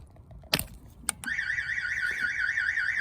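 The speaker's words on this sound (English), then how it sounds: "So as you can see there, the alarm's triggering." A car alarm starts after a couple of sharp clicks, then wails in a steady, warbling electronic siren that keeps cycling up and down, loud and close.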